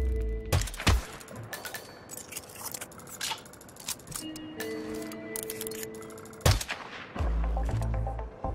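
Sniper rifle shots fired in Hitman 2 at Hantu Port: several sharp, loud reports spaced irregularly, with mechanical bolt and handling clicks between them and no talk.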